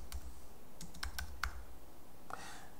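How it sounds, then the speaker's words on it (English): Typing on a computer keyboard while entering sign text in LED display software: a few scattered key clicks, then a short quick burst of taps, fairly close and clear with no talking. "you can type in what you want it to say"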